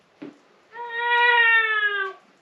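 A person mimics an angry cat's war face, giving a brief breathy hiss followed by a steady, drawn-out, tonal yowl lasting over a second.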